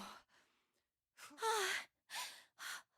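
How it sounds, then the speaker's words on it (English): Panting heard in place of game audio: a series of breathy sighs and gasps in short bursts, some with a voiced rising tone, separated by brief silences, close and fairly quiet. "All I'm getting is effing panting sounds."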